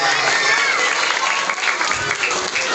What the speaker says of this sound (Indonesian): Tepuk tangan buat Arjuna.